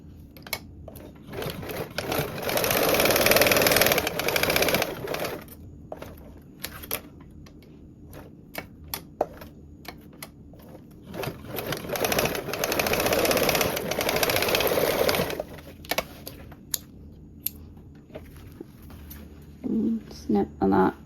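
Sewing machine running in long bursts along the left side and top of a duffle bag seam with a 3/8 inch allowance, loud and steady, stopping and starting with brief clicks between runs, a voice talking at times.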